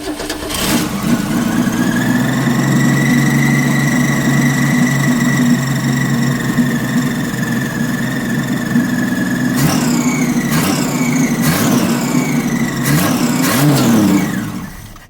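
A 1966 Ford Falcon engine cranks and catches, then runs at a loud, steady idle close by. Near the end come several quick sharp revs before it shuts off, with no talking.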